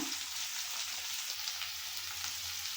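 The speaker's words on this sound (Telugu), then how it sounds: "వంకాయలను కూడా వేయించుకోవాలి ఒక 2 మినిట్స్ పాటు." Eggplant pieces frying in a pan for a potato-eggplant curry, giving a steady, close sizzle that runs unbroken and evenly loud throughout, with no voices present.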